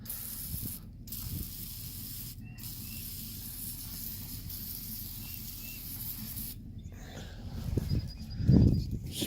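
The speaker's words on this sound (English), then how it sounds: "I'm going to just spray down." Aerosol spray can misting penetrant over rusty nuts and bolts on a garden tractor, several hissing bursts separated by brief pauses, with a louder clunk near the end.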